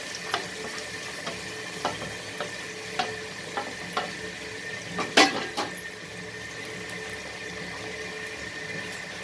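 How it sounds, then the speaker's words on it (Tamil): Tomatoes sauté in a pan with onion, green chili and curry leaves for a Chettinad tomato thokku. A soft, steady sizzle runs throughout, broken by a spatula's scraping stirs and occasional sharp clinks against the pan. "கருவேப்பிலை இந்த வெங்காயம், பச்சை மிளகாவோட நல்லா வதக்கிக்கிறோம்."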